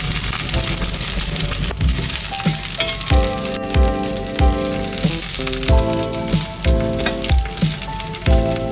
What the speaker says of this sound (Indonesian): goreng juga terongnya.